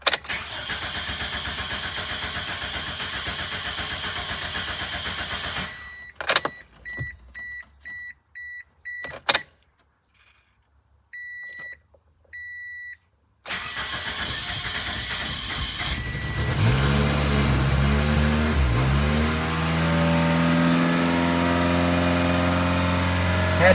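An e120 Toyota Corolla with a rough idle and stumble cranks and starts after a stretch of steady whirring and intermittent beeping chimes, then revs with several rising and falling throttle blips, loud and close.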